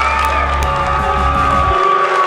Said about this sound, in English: Give a big applause for Mr.